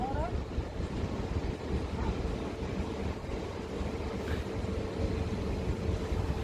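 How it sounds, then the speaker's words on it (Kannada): Continuous wind blowing hard outdoors, a steady broad rushing roar buffeting the microphone without pause, with a tarpaulin lifting and trees swaying. "ಒಳ್ಳೆ ಗಾಳಿ ಬೀಸ್ತೈತೆ ತಣ್ಣಗೆ"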